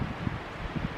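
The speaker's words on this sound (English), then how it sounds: "sorry if it's windy" Gusty wind buffeting a microphone outdoors on a cold, snowy night of winter camping, making low, rumbling thumps and a steady roar of noise with no voices.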